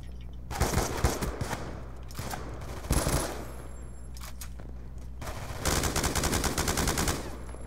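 Gunfire from Call of Duty: Black Ops 2 in a Gun Game match: bursts of rapid automatic shots come in several clusters with short gaps, fairly loud, over faint game background sound.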